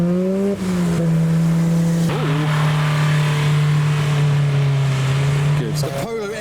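A modified Mazda RX-8 with a burnt rear bumper pulls away from a car show in heavy rain, its engine held at a steady loud drone before revving and shifting near the end, with voices talking over it.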